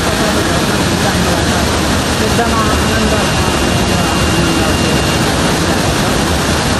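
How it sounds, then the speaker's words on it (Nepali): A waterfall at Dhuwa Chhaga in Nepal sends up a steady, loud roar of falling water that fills the whole stretch without a break, while a voice speaks briefly over the rush. "सुन्दर झरना तपाईँले देखिराख्नु भएको छ अत्यन्तै रमाइलो दृश्यका साथ"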